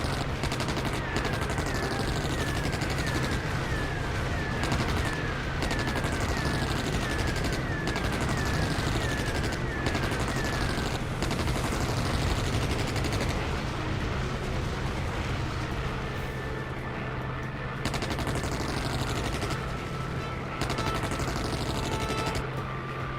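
Four wing-mounted aircraft machine guns fire continuously in the Wings of War video game, a sustained dense rattle over a droning engine hum, loud and unbroken throughout.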